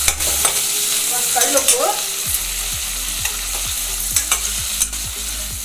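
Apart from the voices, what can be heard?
frying eggplant in a pan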